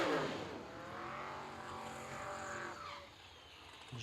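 A drag racing car launching down the strip, a loud engine roar with rising harmonics that fades as the car pulls away, with tire noise at the start.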